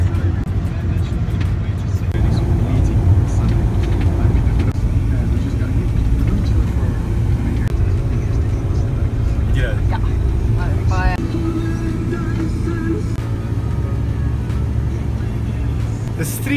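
Steady car interior drone while driving into the small South African town of Bela Bela, a continuous low road and engine rumble throughout with scattered faint background sounds and no speech.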